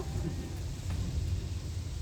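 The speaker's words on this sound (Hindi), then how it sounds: "इतना सातारा में इतना बारिश है कि रोड पे गाड़ी नहीं दिख रही है सामने" Heavy rain on a road in Satara, India, roars in a dense, steady wash with a deep low rumble of thunder underneath, constant throughout with no voices.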